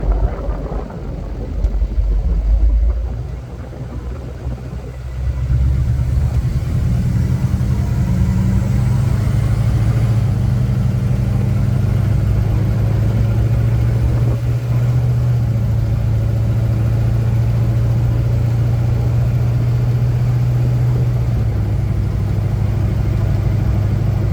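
A car idles, then its engine steadies into a loud, continuous mid-pitched hum as it drives off, holding close and steady throughout with no talking.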